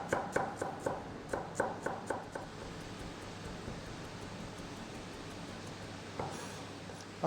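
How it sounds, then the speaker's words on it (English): A knife minces a thumb-sized piece of ginger for lamb curry: a quick, even run of soft chops at first, then a faint, steady hiss with a few scattered taps. "I'm going to mince about a thumb-sized piece of ginger and add this in as well"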